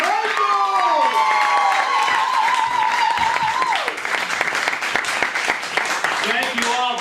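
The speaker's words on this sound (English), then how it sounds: "if you guys could help put your hands together to bring them out here" Audience at a live comedy show in the DC area applauds and cheers as a comedian comes on stage, sustained clapping from a crowd, loud and close, under a host's amplified voice calling out the welcome.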